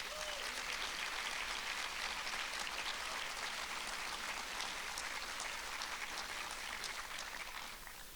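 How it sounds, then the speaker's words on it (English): An audience at an evening talk in a history center applauds the hosts, a steady, even roar of many hands clapping that holds throughout and eases slightly at the end. "Can we please give them a huge round of applause?"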